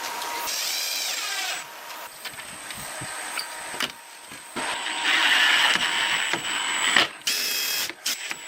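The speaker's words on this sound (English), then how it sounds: "screws are tightened with a drill machine to secure it firmly" A power drill whirs in repeated bursts, stopping and restarting several times as it drives screws into a wooden log cabin window frame, loud and close with brief pauses between runs.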